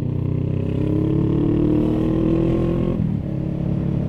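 A loud motorcycle with an aftermarket exhaust pipe gives a steady, close engine drone that rises slightly in pitch, then drops off near the end as the revs fall.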